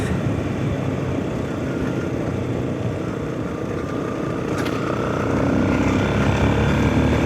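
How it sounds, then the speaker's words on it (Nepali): A motorbike rolls ahead on a road under repair between Khangsang and Khurkot Bazar in Sindhuli, trailing smoke. Its steady engine drone mixes with wind rumble and grows slightly louder toward the end, with no talk. "अगाडिको बाइकले चाहिँ चुरोट खाँदै धुवा उडाउँदै फुटुटु गर्दैछ"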